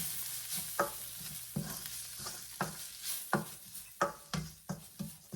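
A spoon stirs fennel powder into fish curry in a pan, with a rhythmic series of scraping strokes about every half second over a soft, steady sizzle. The sound is close, with no talking.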